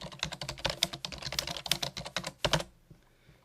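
Fingers type a short burst of text on a computer keyboard, a quick irregular patter of close, crisp key clicks for a few seconds before stopping into quiet.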